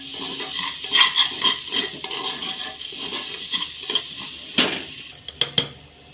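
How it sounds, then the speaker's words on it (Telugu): Dal tempering fries in a pan, light sizzling under clinks and scrapes of a spoon stirring against the metal, with a couple of sharper knocks near the end. "ఈ విధంగా ఫ్రై అవ్వాలి."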